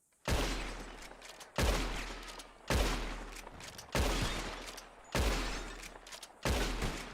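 Gunshots in the Red Dead Redemption 2 video game during a bottle-shooting contest, six loud separate shots at roughly even intervals, each with a sharp crack and a long booming echo that fades before the next.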